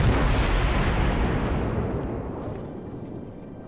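A warship's heavy guns in World of Warships let off a single loud, booming salvo up close, and the rumble decays over about three seconds.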